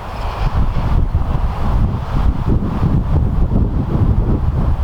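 Strong wind buffeting the microphone out on a golf course, a continuous loud low rumble with gusty swells and no clear voices over it.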